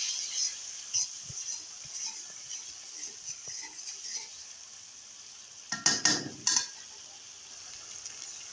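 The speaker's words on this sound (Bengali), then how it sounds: "আমার মশলাগুলো কষানো শেষ" Spices with cumin powder and salt sizzle softly in a pan, frying continuously while a spatula stirs and scrapes, with a brief cluster of louder clinks and stirring near the end.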